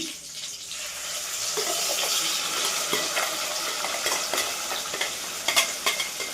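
Masala gravy for gobi masala curry fries steadily in a hot pan, with a continuous loud sizzle, close and even throughout, and occasional scrapes and clicks from stirring. No one talks.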